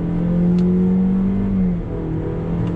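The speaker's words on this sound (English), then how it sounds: "you still get that very loud drone when on full throttle" A 2020 Honda CR-V Touring with a CVT accelerates at full throttle, its engine giving a loud, steady droning hum that holds level and then drops slightly in pitch, heard from inside the cabin.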